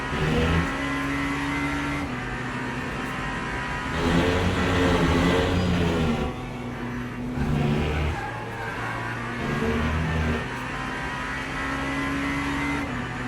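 A racing car's big V8 engine in the Le Mans Ultimate video game drones and whines steadily, revving up and easing off in waves as it accelerates and shifts, with no voices.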